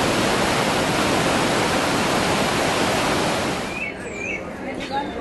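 A dense, roaring wash of falling water from Iguazu Falls fills the scene, loud and constant, easing slightly near the end as birdsong chirps through.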